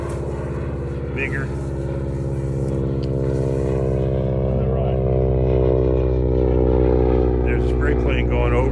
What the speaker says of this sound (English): There's a spray plane going over, delivering rescue chemistry to farmers